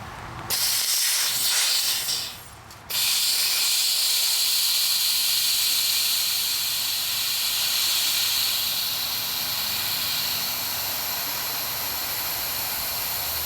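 Compressed air hisses steadily through the water line of a 1993 Sears Kenmore or 2011 Inglis top-load washing machine, a loud broad rush that briefly drops and resumes, then continues unbroken.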